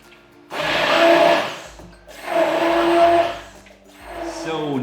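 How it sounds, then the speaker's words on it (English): Hand blender whirring through a chickpea curry sauce in two loud sustained bursts with a brief pause between, then a third rising run of the motor; speech is faintly present underneath. "So I'm using the hand blender today"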